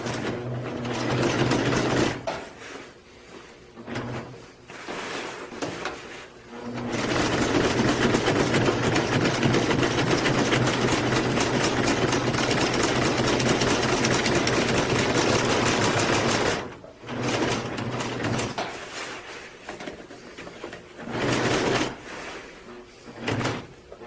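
A sewing machine stitches reinforcements that were glued onto a camping tarp. It runs in close, loud, steady bursts of rapid mechanical chatter, the longest lasting about ten seconds, with short stops and spins of the handwheel between them.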